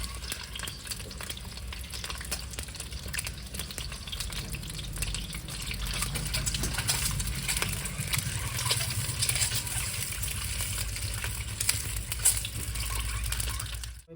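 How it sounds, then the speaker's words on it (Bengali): Four small onions fry in oil in a pan for a village-style egg bhapa, producing a steady, dense crackling sizzle that swells slightly midway and continues close and unbroken, with no talk. "আমি পেঁয়াজটা ভেজে নেবো।"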